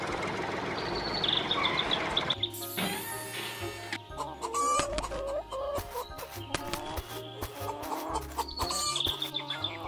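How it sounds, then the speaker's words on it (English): Cartoon farm hens clucking and chirping, with repeated bright calls over a busy backdrop of playful music and sound effects; no speech. "There comes the naughty hens."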